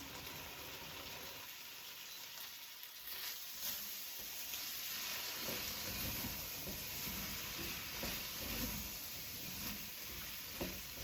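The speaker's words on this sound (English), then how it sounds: "We're gonna saute that for 5 minutes" Onions and zucchini sizzle with curry spices in a pan, a faint, continuous frying hiss that grows a little busier partway through, with soft stirring scrapes.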